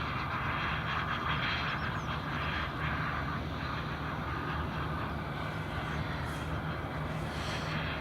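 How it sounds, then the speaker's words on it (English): Edelweiss airliner lining up on the runway at Edinburgh Airport for takeoff, a steady distant jet engine rumble at an even level throughout, with no talk over it. "Right, Edelweiss is clear for takeoff. He's just lining up there now on the runway."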